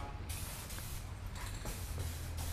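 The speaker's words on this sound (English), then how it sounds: "No matter how hard I try not to spray too heavy, I always end up with paint runs." Spray gun hisses steadily while applying paint to a Porsche 944 rally car, a faint continuous spray with short breaks and a low background rumble.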